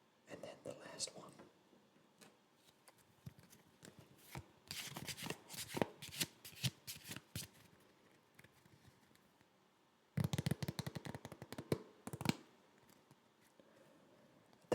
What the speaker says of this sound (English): That is the sound of playing cards.